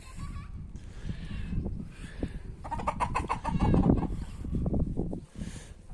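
Chickens cluck and gobble close by in a noisy run shared with rabbits, a burst of rapid repeated calls in the middle, with bird chatter throughout.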